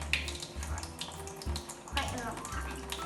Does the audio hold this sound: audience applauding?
no